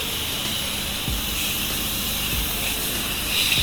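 A pressure washer sprays a weak downstream soap mix onto a dirty section of a house wall, giving a steady, close, broadband hiss with no talk over it.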